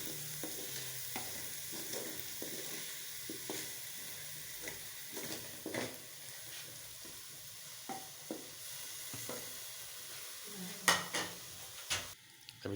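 Pasta is stirred in a sizzling pan after black pepper and salt go in: a steady frying hiss broken by repeated scrapes and clinks of a utensil against the pan, close and irregular.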